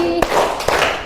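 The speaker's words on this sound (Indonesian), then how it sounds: "Tepuk tangan lagi." Two sharp hand claps about half a second apart ring out in a classroom during a children's action song, with a sung note and voices around them.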